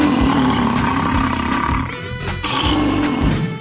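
A gorilla in a 3D animal slide video game lets out a loud, growling roar that rolls on for several seconds with rough, rising and falling bursts, standing alone without speech.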